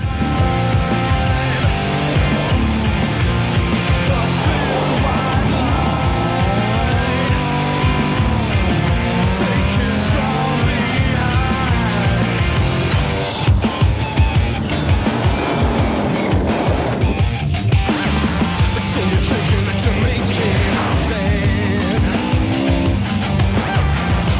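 Classic rally cars race through a stage of Rally Otago, the opening round of the 2001 New Zealand Rally Championship, a steady loud engine roar filling the whole stretch with a brief dip midway.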